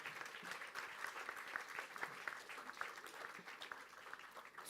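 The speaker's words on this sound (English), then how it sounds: "And please give them a big round of applause." Sustained applause from an audience at the Mondelēz Maestros corporate awards grand finale, dense steady clapping at a moderate distance with a slight final swell.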